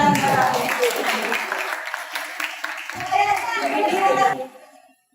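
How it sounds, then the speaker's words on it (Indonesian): Children in a classroom clap together, a busy patter mixed with young voices and chatter, fading out after about four seconds. "kasih tepuk tangan"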